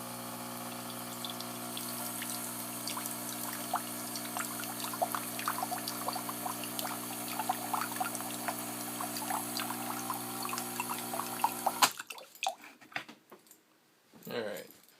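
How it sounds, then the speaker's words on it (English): A Nescafe Dolce Gusto Piccolo coffee machine pumps water through with a steady humming drone and trickling flow for about twelve seconds, then stops, followed by faint clattering and handling noises. "I'm just running water through the machine"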